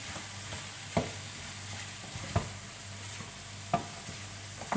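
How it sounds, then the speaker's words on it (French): A honey mixture made with local honey is stirred in a pan over a low, steady sizzle, with three distinct scraping strokes about a second and a half apart and no talking. "Donc, on mélange bien."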